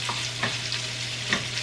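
Small sausage pieces browning in a pan give a steady, close sizzle, with a few scraping stirs about every second.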